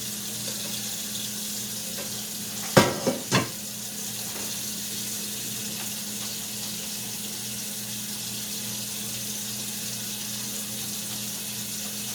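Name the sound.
draining spaghetti noodles in the sink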